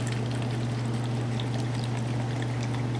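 Cheap paint thinner poured into mineral spirits for a 50-50 finishing mix for a small wood carving: a steady, close liquid pour that runs unbroken for about three seconds over a low constant hum.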